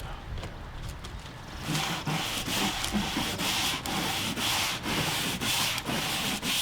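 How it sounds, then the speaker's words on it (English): A stiff-bristled brush scrubs a cleaning solution into weathered wood in steady, rhythmic back-and-forth strokes, close and loud, with no talking. "Scrub that solution on using a stiff bristled brush to remove stuck-on debris including molds and"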